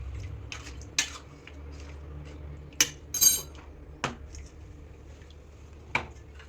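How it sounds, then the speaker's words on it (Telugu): A spoon stirs mutton paya curry with water and spices in a metal pot: soft, wet squishing punctuated by a handful of sharp metallic clinks against the pot, scattered irregularly and fairly close. "ఇప్పుడు మొత్తం ఇలా కలుపుకోవాలి"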